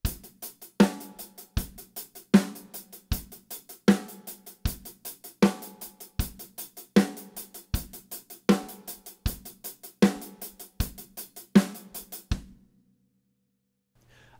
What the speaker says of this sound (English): We're going to add the bass drum on beats 1 and 3.